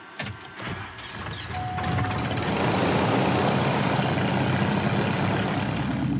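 Right engine of an aircraft at a high-altitude airfield starting up, a few clicks and a brief tone followed by a rising roar that settles into a steady loud whine as it warms up.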